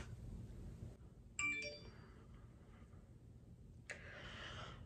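A mobile phone notification chimes once with a short melodic ding sequence, followed a few seconds later by a brief second alert, faint against a quiet room without talking.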